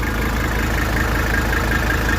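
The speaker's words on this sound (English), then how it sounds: "This is the smoothest this thing has idled, as long as I've had it." An OM617 diesel engine with an exhaust leak idles with a steady, continuous rumble and faint rhythmic knock, loud and close, no voices.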